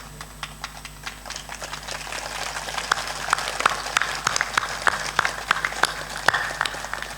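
An audience at a spiritual discourse claps, scattered sharp hand claps building into a brisk, uneven patter that grows louder over several seconds against a low hum.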